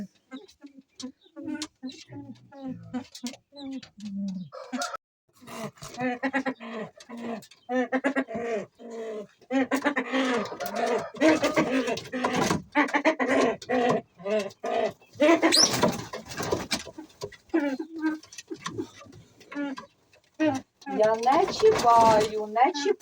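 Pigeons in an aviary that also houses pheasants, repeated soft cooing and bird calls close by, mixed with rustling and someone talking over much of it.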